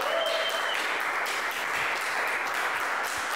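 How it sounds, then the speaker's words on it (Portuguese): Applause at a live stand-up comedy show in Portugal: a steady, full crowd clapping throughout, with a faint whistle near the start and no talking. "Forte aplauso para o Ruben Branco, por favor!"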